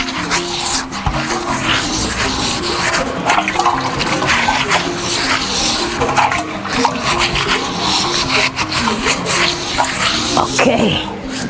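Water splashes and swishes steadily while an African earthen pot is washed by hand, a continuous close wet sloshing with scraping and rubbing that runs throughout.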